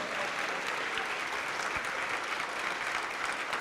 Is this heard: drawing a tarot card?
no